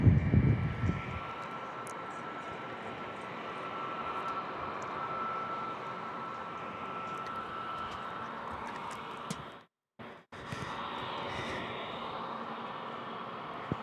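Frontier airliner jet taking off from runway 27 at San Diego International Airport, a steady broadband engine roar that holds fairly level throughout, with a brief dropout near the end before the rumble resumes.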